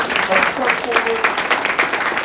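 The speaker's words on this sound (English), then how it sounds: "So let's clap it up for Mayor Roger Walker." An audience at a university event applauds a town mayor, a steady wash of clapping with voices mixed in and talking over it.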